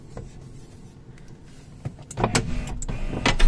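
A Porsche Boxster power window motor strains and grinds in a faulty window mechanism, a rough, scraping whine that grows louder and denser in the last second and a half, with sharp bursts near the end.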